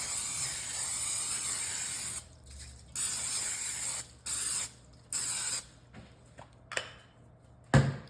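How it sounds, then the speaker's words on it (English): Pam cooking spray hissed onto a bump pan in several short bursts, the first long and steady, the later ones quick and separated by brief pauses, close and fairly loud, with light clicks and handling noise between. "I'm gonna go ahead and give this a quick spray so that nothing sticks"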